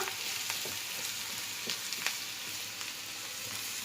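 Onions sautéing in a pan for an empty chalna, a steady soft sizzle with faint crackles and occasional stirring scrapes, close and fairly quiet with no talking.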